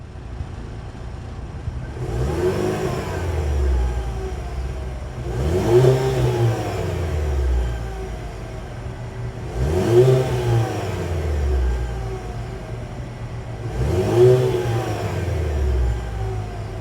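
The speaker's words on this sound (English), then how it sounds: "even though it's a four-cylinder engine, we do have a functional dual exhaust" A 2023 Cadillac CT5 Luxury AWD's four-cylinder engine with dual exhaust revs hard four times at steady intervals, each burst climbing then falling back to a deep idle rumble, close and loud.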